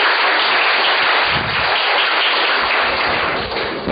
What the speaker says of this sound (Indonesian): Mari kita beri tepuk tangan untuk Bekasi.